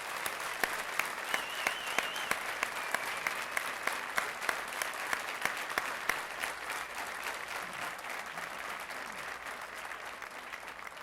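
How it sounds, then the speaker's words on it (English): A crowd at a recruit class graduation ceremony applauds in a dense, sustained wash of clapping that holds steady for several seconds and then thins slightly toward the end, with no voices over it. "so I'd like to get a big round of applause for Captain Clark."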